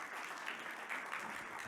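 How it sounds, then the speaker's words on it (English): An audience at a mission organization gathering applauds a guest speaker from a children's camp, producing a steady, dense wash of clapping throughout, moderately distant and fairly soft. "Let's give her a round of applause."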